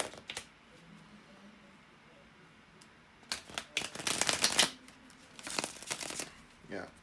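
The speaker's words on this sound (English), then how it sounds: "bear with me a second, guys, to shuffle the cards." Tarot cards being shuffled by hand, dense papery riffling bursts in the second half after a quieter stretch, close and fairly loud, with a few short snaps between.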